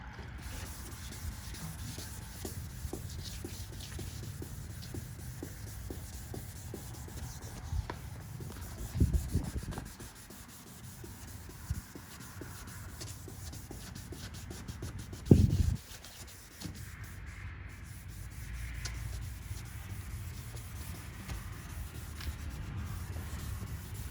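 A car headlight lens being hand-sanded with sandpaper for restoration, a continuous steady rasping scrub in even strokes that pauses briefly twice before resuming.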